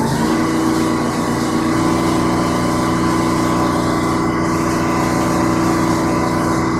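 A sewer jetter pump engine runs at 3,000 PSI and is throttled up toward maximum, giving a loud, steady, close-up mechanical drone that holds throughout with no talking.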